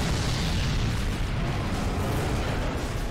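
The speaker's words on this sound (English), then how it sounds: "You're gonna do the explosion, aren't you?" A boss exploding in the video game Dark Souls 3, heard as a loud, sustained rumbling blast with heavy low-end roar that fills the whole moment without letup.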